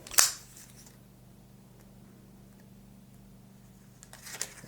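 A package is cut open with a sharp snip at the start, then a quiet pause with faint low hum and a soft rustle near the end.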